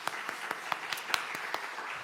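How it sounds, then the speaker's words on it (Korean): Applause at a Korean church afternoon worship service, praising the kitchen team: a soft wash of clapping with a few louder, evenly spaced claps standing out near the microphone. "진짜 우리 식당팀은 박수 한번 쳐야 될 것 같아요"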